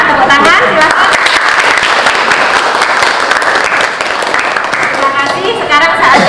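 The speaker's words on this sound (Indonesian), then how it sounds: "Tepuk tangan, silakan." Students clapping together in a classroom after a group discussion: loud, close, steady applause filling the room for several seconds, with voices mixed in under the clapping.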